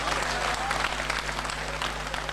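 Audience applause at a mushaira poetry recital in Bhiwandi, a dense, steady wash of many hands clapping throughout, with a low electrical hum beneath.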